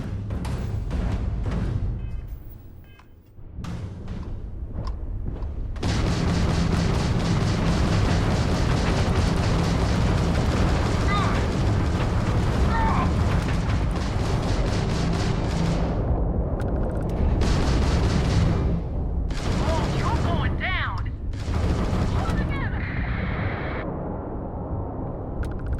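Gunfire from a weapon shot at a target in Starfield, loud and sustained, with rapid rattling bursts, some breaks, and a few sharp cracks near the end.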